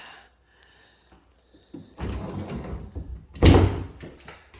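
Double doors open from a primary bedroom into a bathroom, a soft handling rattle and then a louder thump as the doors swing, close and quiet in a house.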